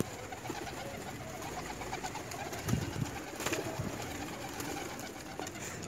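Pigeons coo in low, throaty bursts around the middle, nearby and moderately loud against a steady outdoor hiss, with no voices.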